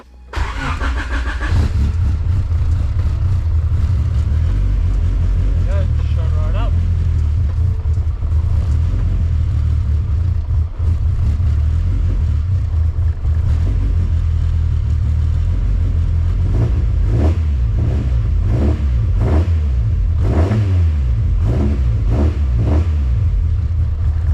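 A Honda Civic EG with a B16 engine cranks briefly and starts, then idles with a steady, loud, close rumble, with a few sharp revs rising and falling toward the end; no one speaks.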